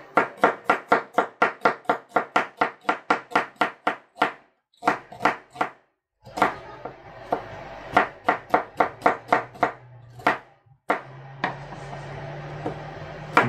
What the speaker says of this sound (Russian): Нарезается лучок.